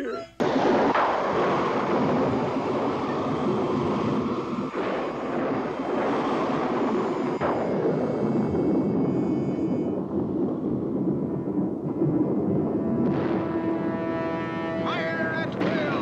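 Cannon fire during the Pirates of the Caribbean ride at a Disney park: loud, booming blasts with a long rumbling tail mixed with voices and ride soundtrack, continuous and dense throughout.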